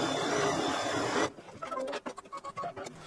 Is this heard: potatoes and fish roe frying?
no